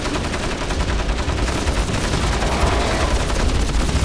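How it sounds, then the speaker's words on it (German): Sustained, dense gunfire from enemies in the game Crysis, a continuous loud rattle of shots with no gaps across the whole stretch. "Alter, die schießen aber auch präzise"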